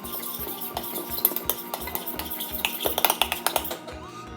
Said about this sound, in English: Let's give the dry ingredients a mix.